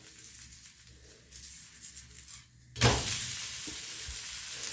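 A jowar and bajra pancake begins roasting on a hot pan: after quiet kitchen rustling, a sudden loud sizzle bursts up and holds steady, close by.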